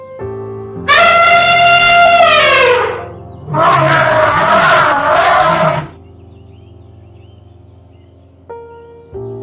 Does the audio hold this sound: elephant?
yes